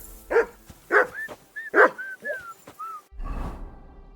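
A dog in the medieval video game Kingdom Come Deliverance II barks about three times in quick succession, with a few short whines and yips between the barks. A burst of rustling noise follows at the end.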